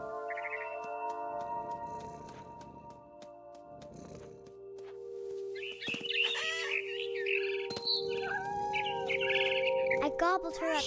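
Small birds chirp and tweet in short bursts inside a video game, What Remains of Edith Finch, set in a big tree, mixed with steady tonal game sounds; the calls grow busier and louder toward the end.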